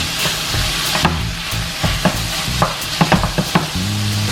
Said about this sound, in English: We're gonna let this fry up for about 3 to 4 minutes